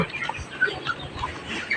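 A young chicken chick gives several short, high, faint peeps spread across a quiet indoor background.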